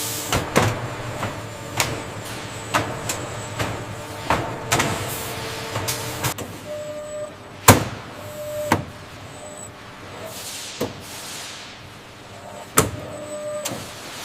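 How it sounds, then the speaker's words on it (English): A pallet stretch-wrapping machine in a pomegranate juice factory spins a pallet at high speed while a roll of industrial plastic film wraps it from bottom to top. A steady motor whir is broken by repeated sharp clicks and knocks, close by, with no talking. "The pallet spins at high speed while a roll of industrial-strength plastic film wraps it from bottom to top."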